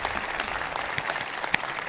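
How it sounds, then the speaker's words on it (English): A crowd applauding outdoors at the completion celebration for the Pier 27 James R. Herman Cruise Terminal in San Francisco, honouring the construction workers, with dense, steady clapping and a few louder claps standing out. "please, can I have a round of applause for all of the workers who have delivered this in crazy hours"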